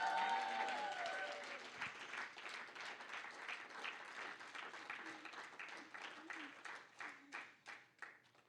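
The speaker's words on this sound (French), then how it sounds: "C'est de bons applaudissements" A church congregation claps during a French-language worship service, a dense spread of hand claps that gradually thins and turns more uneven toward the end, with some voices mixed in at the start.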